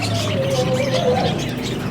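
Birds squawking and calling in a pet shop, with a thin high whistle-like call sliding through a steady, dense background of shop noise.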